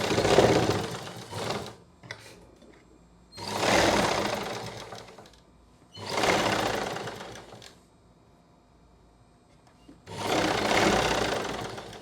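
A sewing machine stitches a blouse lining in four loud, sustained runs of roughly two seconds each, with short quiet pauses between them.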